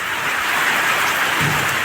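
Steady, dense rain from a Kalbaisakhi storm hisses continuously, with a faint low rumble near the end that could be distant thunder.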